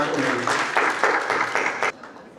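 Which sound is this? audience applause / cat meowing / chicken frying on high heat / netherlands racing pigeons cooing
audience applause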